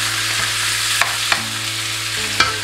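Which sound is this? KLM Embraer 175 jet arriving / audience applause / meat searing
meat searing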